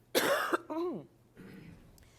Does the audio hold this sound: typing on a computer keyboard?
no